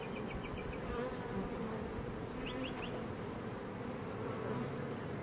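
A honey bee swarm in a backyard setting, heard the day after being hived, makes a dense, constant low buzzing close by with no voices.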